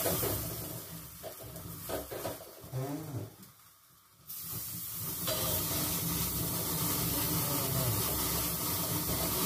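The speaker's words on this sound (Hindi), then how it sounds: "तवे पे आग लगी" Butter catching fire on a hot iron tawa griddle, with flames and a broad, steady hiss that fades briefly to near silence, then returns loud and continuous.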